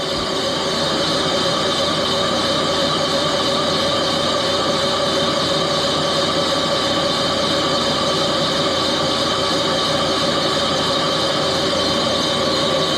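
An Axelson lathe boring out a Harley Davidson cylinder at about 200 RPM, a steady loud mechanical drone with constant tonal whine and rumble, unbroken and without talk.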